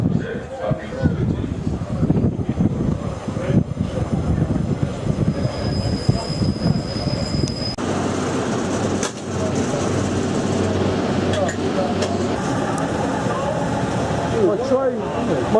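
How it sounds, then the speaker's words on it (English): A train pulls into platform 0 at Scunthorpe station with a steady, heavy rumble that lasts throughout and shifts partway through, with people talking over it. "My train from Scunthorpe has arrived at platform 0"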